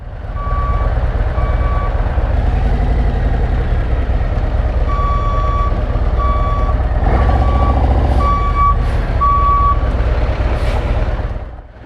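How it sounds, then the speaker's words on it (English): A cement mixer truck backing up on a city street, its reversing alarm beeping in regular pulses over a loud, rumbling diesel engine, heard close by. "Almost got backed into by a cement mixer."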